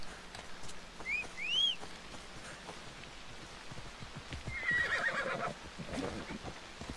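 A horse in Assassin's Creed Odyssey whinnies twice with rising, wavering calls, followed by a longer neigh later on, heard over light rain and soft hoofbeats.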